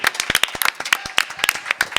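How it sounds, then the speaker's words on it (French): A studio audience claps for about two seconds at the end of a French culture broadcast segment, sharp, uneven, close hand claps from a modest group of people. "On peut les applaudir."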